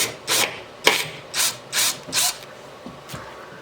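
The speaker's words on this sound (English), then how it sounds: "Now I'm just gonna drill myself a little hole" Small hole drilled by hand into wood during restoration of a 1980 Williams Scorpion pinball machine, heard as five short rasping bursts in a steady rhythm, close and fairly loud, with a faint tap at the end.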